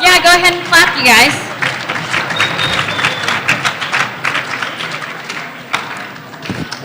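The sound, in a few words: students clapping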